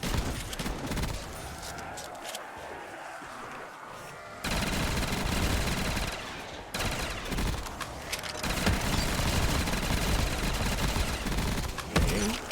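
Shotgun fire in Black Ops 3 Zombies on a custom map, with repeated loud blasts in quick bursts among dense game noise and gunfire clatter, continuous and close throughout.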